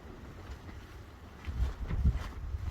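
Wind gusts outdoors buffet the microphone with low rumbling, the blustery noise growing stronger and more turbulent in the second half, with no voices heard.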